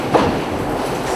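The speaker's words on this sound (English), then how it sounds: "The flattened steel is then cut into squares called blanks inside this machine." A steady metallic clattering rumble from a blanking machine cutting flattened steel into square blanks, rhythmic and continuous, close up with a brief louder clank near the start.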